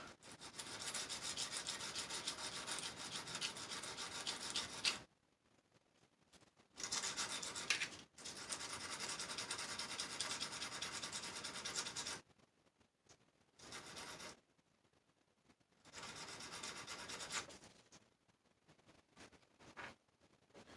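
Quiet, close scratchy rubbing in repeated bursts of a few seconds each, separated by brief pauses, like fine abrasive sanding on a small surface: metal terminals on a stereo component being sanded before soldering.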